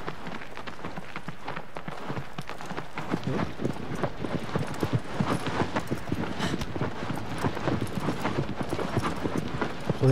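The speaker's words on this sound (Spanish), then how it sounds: "Que bien suena el caballo." Steady rhythmic clip-clop of a horse's galloping hooves in the Shadow of the Colossus remake, continuous and fairly loud, with a constant ambient wash underneath.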